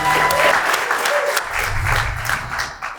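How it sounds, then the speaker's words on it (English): Short burst of applause and cheering for student teams at a manufacturing trades competition finale, energetic clapping with crowd noise and a low rumble, fairly close and loud throughout. "Let's give yourselves a round of applause."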